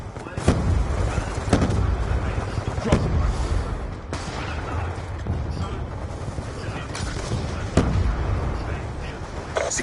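A frag grenade explosion and gunfire in Call of Duty Black Ops 2, sharp bursts and booms recurring every second or two over a constant rumbling battle din.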